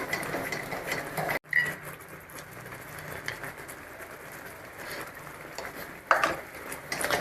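Almond burfi mixture is stirred in a pan, giving soft, continuous scraping and light clinking of a utensil against metal, with a couple of sharper knocks and faint sizzling underneath, fairly quiet and close.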